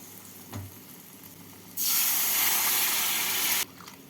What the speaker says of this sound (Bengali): এবার এর মধ্যে আমি দিয়ে দেবো এক কাপ গরম জল